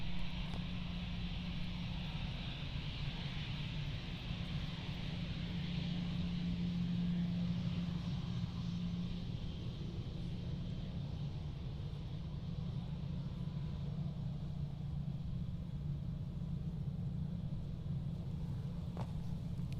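An airliner takes off at Amsterdam Schiphol airport. A steady, distant roar of engines holds without much change for about twenty seconds.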